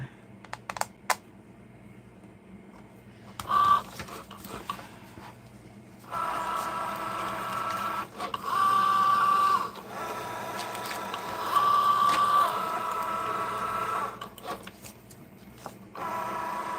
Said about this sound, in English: Loading, loading, loading. Let's get that material loaded. Cricut Joy.